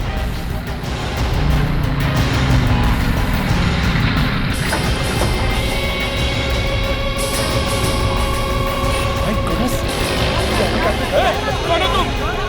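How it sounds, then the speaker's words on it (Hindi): Dense road traffic with cars and trucks passing, a continuous roar with horns and engine tones rising and falling, heard while people talk amid the bustle. "संभल के, ट्रैफिक बहुत है।"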